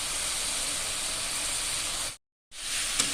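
Ginger-garlic spice paste with turmeric and cumin fries in a pan, giving a loud, continuous sizzling hiss that breaks off briefly and then resumes.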